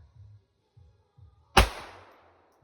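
A single sharp gunshot cracks out loudly and decays quickly, preceded by faint low thumps and murmuring.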